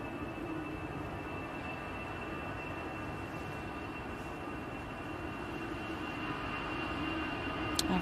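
A steady, sustained jet engine roar from an aircraft at Manchester Airport, bound for Paris, hums evenly throughout with a constant tonal whine, heard from a distance and alone.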